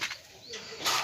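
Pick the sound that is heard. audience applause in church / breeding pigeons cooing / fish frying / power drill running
breeding pigeons cooing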